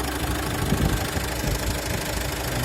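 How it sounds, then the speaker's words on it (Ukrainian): A 2017 Renault Master van's 107 kW diesel engine idles nearby with a steady, slightly knocking rumble that stays even throughout, with no voices. "Ну і все, це так працює мотор."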